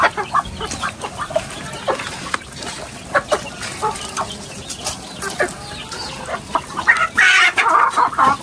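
Chickens cluck close by in short, irregular bursts, with a louder squawking flurry near the end.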